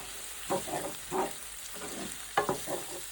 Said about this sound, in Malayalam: ഞാനെപ്പോഴും ഈ തടിയുടെ തവി യൂസ് ചെയ്തിട്ടുണ്ട്. എനിക്ക് മറ്റേ ഇതിൻ്റെ സൗണ്ട് ഇഷ്ടമാണ്.